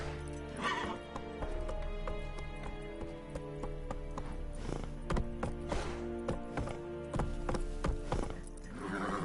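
Geralt's horse Roach in The Witcher galloping with rapid, heavy hoofbeats and whinnying, set against a loud music score, the pounding rhythm continuing throughout.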